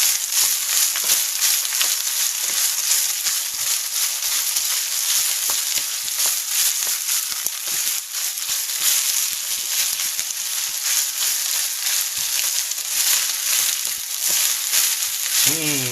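A cup of rice fries in a hot pan, giving a loud, dense sizzle with scraping and stirring bursts throughout, close and continuous.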